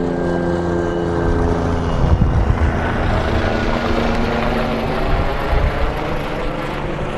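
A regular aircraft flies out toward the offshore rigs over Blackpool, a continuous broad engine drone that swells slightly and holds steady throughout, with no talking.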